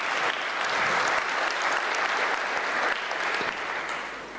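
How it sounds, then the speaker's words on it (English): Audience applause at a formal conversation event with former South African President Thabo Mbeki, a steady sustained clapping from a sizeable crowd that fades slightly near the end, with no speech over it. "I thought you were going to clap hands for that."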